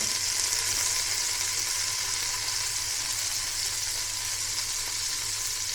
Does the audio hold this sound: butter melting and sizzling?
yes